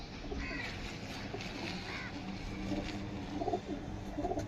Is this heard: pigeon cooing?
yes